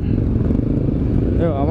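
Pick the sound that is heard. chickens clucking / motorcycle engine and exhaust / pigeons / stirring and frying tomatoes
motorcycle engine and exhaust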